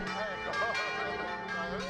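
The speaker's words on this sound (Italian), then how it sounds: "finiamo a sentire le campane" Church bells ring steadily in a sustained, overlapping metallic peal with rich harmonic tones. Faint voices are heard beneath the ringing.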